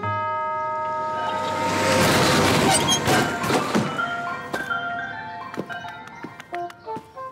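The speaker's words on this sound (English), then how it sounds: "the ice cream truck will hit a pothole in the street, and a case of chocolate num-num bars with almonds will pop out" A cartoon ice cream truck plays its tinkling jingle, then hits a pothole with a loud jolting crash, followed by scattered clanks and rattles as the cargo bounces loose.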